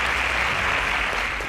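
Clapping from a studio audience at a quiz competition, a continuous crowded burst of hands that holds steady and tapers slightly at the end.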